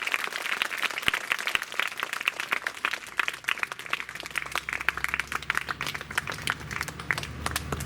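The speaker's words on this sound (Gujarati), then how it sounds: "તાળીઓની કંજૂસી નહીં કરો. ક્યાં વગાડશો? વગાડો." Sustained applause from a crowd at a Guru Purnima ashram gathering honouring schoolgirls, dense clapping that carries on steadily from start to finish without talking.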